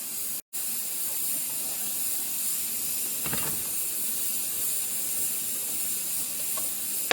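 Hot water from a pot of boiled greens is poured out, giving a steady, close hissing rush with a faint steamy spray that continues evenly throughout, with a brief clatter partway.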